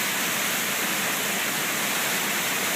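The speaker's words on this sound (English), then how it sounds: "Oh, those waves breaking over there off the breaker." Storm waves driven by Tropical Storm Isaac crash over a breakwater, giving a loud, unbroken roar of surf and spray with no voices.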